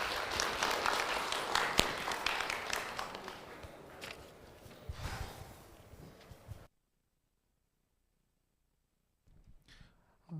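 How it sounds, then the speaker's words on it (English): Conference audience applauding after a talk at OpenFest 2024, a dense burst of clapping that slowly thins out over about six seconds, then cuts to near silence before faint noise returns. "applause, please, once again"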